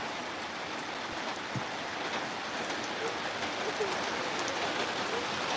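Steady rain pours down in a dense, even hiss, close by and continuous throughout, with no voices.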